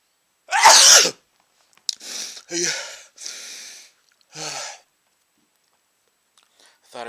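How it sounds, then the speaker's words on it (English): A person gives one loud, explosive sneeze at close range, followed by several sniffs, gasps and breathy snorts with silence between them. "and I'm gonna sneeze."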